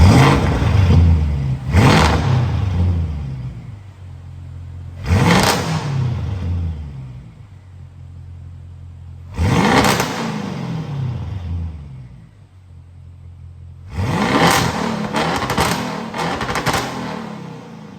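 An Audi RS7 with downpipes revs four times in loud, separate bursts, each rising sharply and falling back to a steady idle between them, with no talk.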